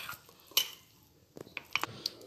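Aloo tikki batter stirred in a bowl, with a loud utensil clink against the bowl early on and then a cluster of scraping, tapping strokes near the end, quiet and close, with no talk.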